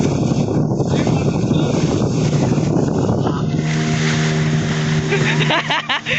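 Waves at Pangandaran beach in Indonesia, loud churning surf and rushing water mixed with heavy wind buffeting the microphone, while a boat motor hums steadily beneath and people talk nearby.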